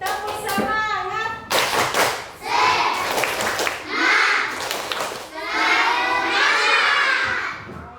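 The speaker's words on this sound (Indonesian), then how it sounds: "Oke, tepuk semangat." A classroom of children performs a rhythmic clapping cheer, bursts of hand claps in patterned groups mixed with young voices shouting and chanting along, close and lively.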